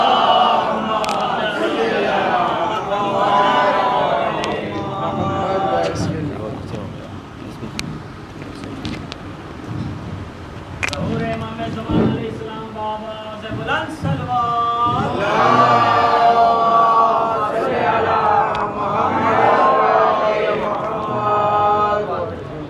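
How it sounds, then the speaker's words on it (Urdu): A crowd at a religious gathering chants salawat in unison, with loud rhythmic rising and falling group voices and breaks between phrases, partly roughened by wind noise. "آپ حضرات سے گزارش ہے کہ نعرے بلند صلوات ارشاد فرمائیں۔"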